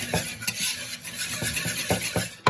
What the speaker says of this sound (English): Now whisk that in together just like that